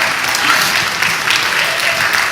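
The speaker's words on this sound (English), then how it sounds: "why don't you all stand up and let us applaud you?" A church congregation stands and applauds, a dense, loud, continuous patter of many hands clapping close by, with no voices standing out.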